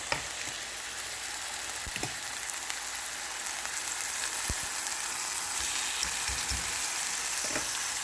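Food seasoned with Greek spice browns in a pan with a steady, close sizzling hiss and a few sharp clicks and pops scattered through it. No one speaks.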